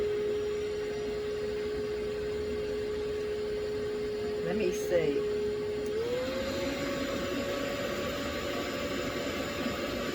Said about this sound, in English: A food processor